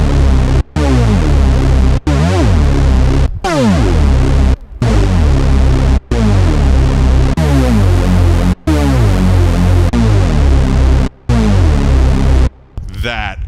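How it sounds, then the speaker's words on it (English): A Roland Alpha Juno analog synth driven by a Retroaktiv MPG-50 programmer plays a rhythmic sequence of buzzy, throbbing notes with pitch sweeps, loud and close, each phrase separated by brief gaps. "That is the sound of the Juno."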